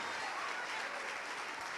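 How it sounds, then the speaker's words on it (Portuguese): A church congregation claps for a short stretch, a dense, even patter of many hands that sounds fairly faint and distant, with no clear voices over it. "vamos aplaudir ao Senhor Jesus por cada vida que está chegando"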